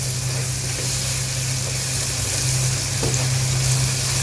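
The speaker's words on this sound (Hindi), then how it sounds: "ये देखिए मसाले हमारे अच्छी तरह से भूनने जा रहे हैं।" Masala spices frying steadily in a hot pan for an aloo anday curry, a continuous close sizzle with faint stirring scrapes and no talk.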